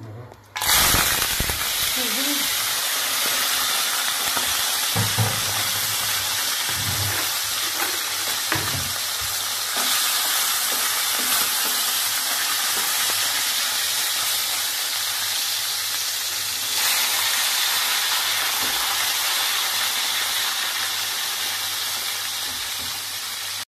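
Freshly caught fish fries in a pan at home, giving a steady, close, continuous sizzle and hiss that runs the whole time with a few brief clatters near the start and no talk over it.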